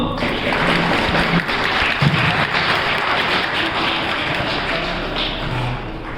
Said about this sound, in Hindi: तालियां बजाएं सब लोग।